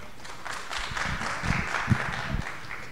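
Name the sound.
audience applause for a speaker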